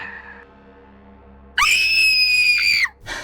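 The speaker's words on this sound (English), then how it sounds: "Tamira jolts out of her nightmare with a scream" A woman waking from a nightmare lets out a single shrill, sustained scream lasting over a second, loud and close, after a stretch of quiet low droning, then a brief fresh cry begins.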